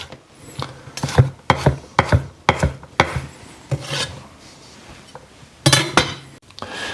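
A sharp knife slices green tomatoes on a board in a kitchen, giving a run of crisp, close cutting strokes in an irregular rhythm, with several quicker chops near the end.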